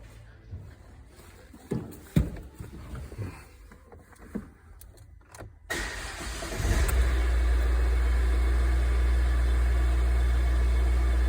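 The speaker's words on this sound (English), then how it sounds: "Okay, car starts." A car engine cranking and firing up after CAN-bus diagnostic work, with scattered clunks and handling noises before the engine catches and settles into a steady, loud, close idle.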